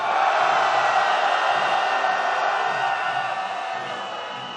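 A huge rain-soaked protest crowd at an impeachment march lets out a sustained roaring shout, a dense, loud wall of voices that slowly fades toward the end.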